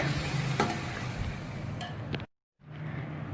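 Salt and spices being stirred into a pot, a continuous close sizzling, scraping churn with a couple of sharper knocks, broken by a brief dead-silent gap before the stirring resumes.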